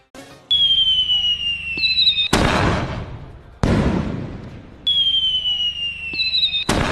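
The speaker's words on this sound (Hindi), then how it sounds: "इस वक्त आतिशबाजी सजा हुआ बिस्कोमान भवन" Fireworks burst at Biscomaun Bhawan during celebrations of election results, with loud sharp booms that crackle and fade, whistling rockets climbing between the blasts, and repeated explosions close by.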